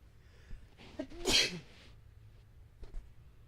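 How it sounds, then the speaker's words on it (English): A single sharp sneeze bursts out in a quiet room, preceded by a brief intake of breath and followed by soft rustling. "I'm gonna sneeze."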